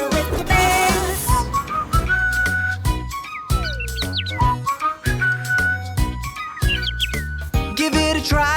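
Whistled melody alternates with bright bird chirps and tweets over a bouncy children's song, the whistling carrying clear tuneful phrases while chirps dart in between, loud and close throughout.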